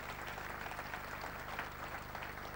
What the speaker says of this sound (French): Est-ce qu'on peut applaudir le Seigneur très fort?